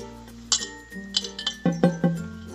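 Metal utensil scraping and clinking against a pan while besan flour roasts over low heat for ladoo, a handful of light irregular clinks and taps, close and fairly quiet.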